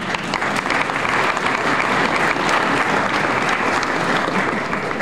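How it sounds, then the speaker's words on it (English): Audience at an author signing event breaks into steady, full applause, many hands clapping at close range with even intensity from start to finish. "That deserves a round of applause"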